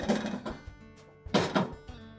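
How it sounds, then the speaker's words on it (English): Two dull, hollow thunks of a Whirlpool range's oven door hinges sliding into their openings, close by, with a short clicking clatter between them. "line up the hinges with the hinge openings and gently insert them"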